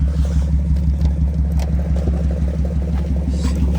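BMW E46 car on a short test drive, its engine giving a steady loud low rumble with faint clatter throughout, no voices.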